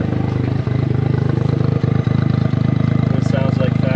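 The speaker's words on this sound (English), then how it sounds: "It sounds like factory, it's factory exhaust." A JDM Suzuki Cappuccino hardtop convertible on its stock factory exhaust idles with a steady low rumble, its close engine note held evenly throughout, broken by a few brief clicks and knocks.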